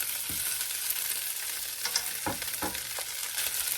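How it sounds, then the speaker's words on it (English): Cooked rice for a butternut squash risotto goes into a hot frying pan, where a steady sizzle carries a few soft thuds and stirring scrapes close by. "Now I'm going to add in about 2 cups of cooked rice"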